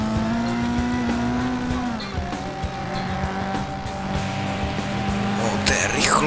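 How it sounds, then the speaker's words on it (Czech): Race car engine and exhaust in the FlatOut video game, a raspy, holed-exhaust drone holding steady and loud with tire squeal and game effects layered over it, someone talking over parts of it. "Má dost takový zajímavý zvuk tohle auto. Takový jako když má v tom výfuku díru."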